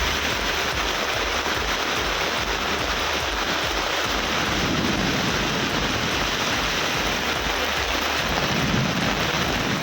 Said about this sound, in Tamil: 1 மணி நேரத்திற்கு மேலாக இடி மின்னலுடன் மழை கொட்டி தீர்த்ததால்